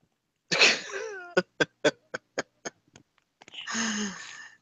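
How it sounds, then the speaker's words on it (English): A person coughs close by: a harsh opening cough, a rapid series of short sharp hacks, then another rough, drawn-out cough. "I'm laying down, so that's why I'm coughing"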